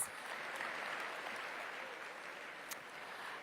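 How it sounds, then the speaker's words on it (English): Sustained applause from an audience at a mayoral announcement event, steady and moderately distant, continuing evenly throughout without a break. "So give yourselves a round of applause."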